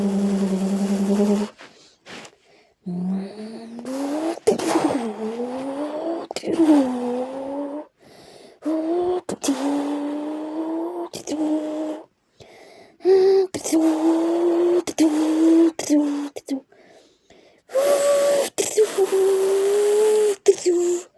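A person imitates a Nissan GT-R R34 quad-turbocharged engine with their mouth, producing buzzing, rising rev-like tones in short bursts separated by pauses and breaths, close and fairly loud.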